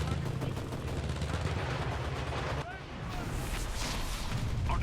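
Dense gunfire in the World War II shooter game Enlisted, a sustained rattle of rapid automatic shots with a brief lull midway, loud and continuous, with a voice faintly present under the firing.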